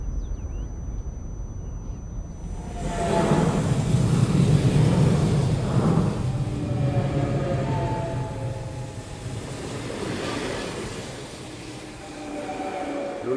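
A train rumbles past after a quiet start, a broad roar swelling then easing with faint squealing tones over it.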